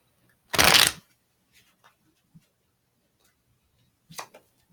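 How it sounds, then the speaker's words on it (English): Tarot cards are shuffled in one loud, close riffle lasting under a second, followed by a few faint taps and a second short card flick near the end. "One more shuffle."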